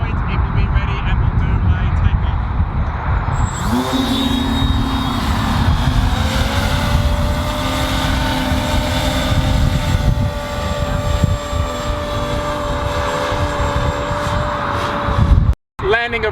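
A small VTOL unmanned aircraft spins up and lifts off, a steady propeller drone building in pitch and holding loud and close for the whole stretch, with distant voices underneath.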